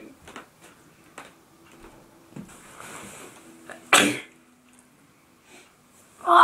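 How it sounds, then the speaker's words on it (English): A person forces a sneeze, with soft sniffs and breaths leading to one sharp, loud burst, then quiet breathing and another abrupt loud burst at the very end. "It was a sneeze in there, okay?"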